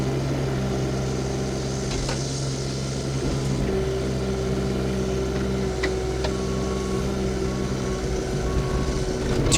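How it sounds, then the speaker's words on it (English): A 2019 Caterpillar 302CR mini excavator on rubber tracks drives under its own power, a steady droning diesel hum with a constant whine and occasional clanks from the tracks, loud and close without a break, no voices. "both tracks turn under their own power"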